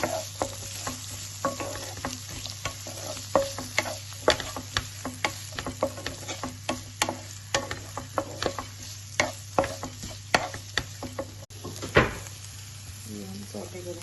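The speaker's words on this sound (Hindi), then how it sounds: "इसको हम सॉटे कर लेते हैं। ये हम सॉटे करेंगे।" Mixed vegetables sauté in a hot pan with a steady low sizzle, punctuated by regular sharp clinks and scrapes of a spatula stirring, close and fairly quiet.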